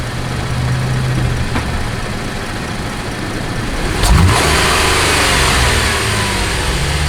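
Car engine idling, then revving up under acceleration, with a sharp rise in pitch and loudness midway before settling into a sustained higher hum, heard close with no talk.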